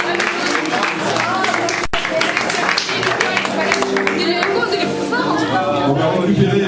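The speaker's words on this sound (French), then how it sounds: "Vous pouvez applaudir fort quand même." Crowd noise at a school charity event, La Ronde de l'Espoir at a lycée in La Grande Motte, with steady clapping and chatter filling the room throughout, and a voice speaking over the applause.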